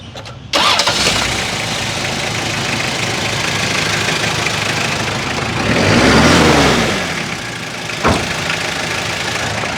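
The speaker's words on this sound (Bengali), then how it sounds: "ইঞ্জিনের সাউন্ডটা ভাই আমাদেরকে একটু শোনান" A Toyota KR42 engine cranks and catches within the first second, then runs at a loud, steady idle, swelling in a rev about two-thirds through before settling back, close up with no talk.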